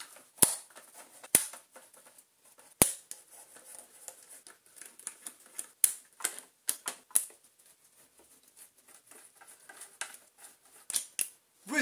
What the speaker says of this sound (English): where we can remove these seven screws holding the body on.